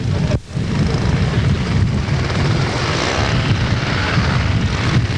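A very large model aircraft taxis along the runway at a 1981 Yverdon model flying meeting, its engine a loud, steady drone held close for the whole stretch after a brief dip at the start.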